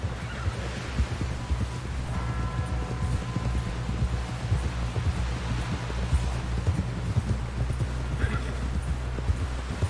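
Horse hooves clip-clop along a trail in the video game Red Dead Redemption 2, a steady close rhythmic trot running throughout over a low ambient rumble, with a brief whinny-like tone near the start.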